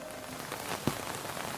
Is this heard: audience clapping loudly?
no